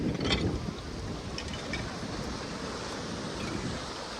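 Sea waves washing against the rocky shore at Dhanushkodi, a continuous broad rush of surf mixed with wind noise, loud and near.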